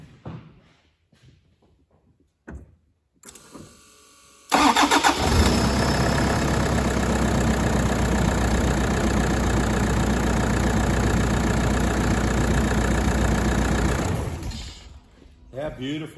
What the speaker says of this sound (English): You can have a listen to the starter motor and the engine